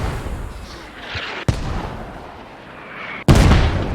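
Mortar fire in the military shooter Squad: two sharp, heavy impacts about two seconds apart rise out of a steady rumbling battlefield background, the second one louder and followed by sustained noise.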